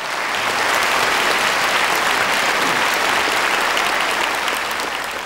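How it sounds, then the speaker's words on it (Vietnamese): Audience applause at a Tet comedy show fills the whole stretch as a dense, steady wash of clapping, loud and continuous without pause. "vỗ tay cho chị giáo dục"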